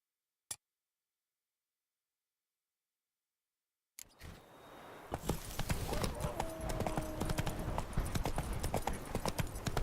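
Horse hooves clip-clopping from Roach in The Witcher 3, a steady close rhythm of hoof strikes on hard ground starting after a short silence, with faint ticking and a brief whinny-like tone.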